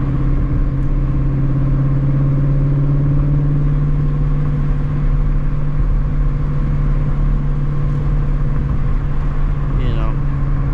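A 2017 Shelby GT350 V8 drones steadily under load during a night drive, with strong low harmonics and a rising pitch sweep near the end as the engine revs, loud and constant throughout.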